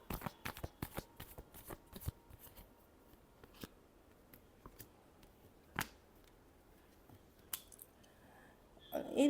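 Tarot cards being shuffled by hand in a quiet room, a run of quick dry riffling snaps and flicks at the start, then sparser single card slaps with pauses, ending in a louder flutter.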